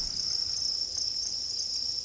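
About 6,000 crickets in a bin chirp together in a dense, continuous high-pitched trill, close and steady with no other sounds.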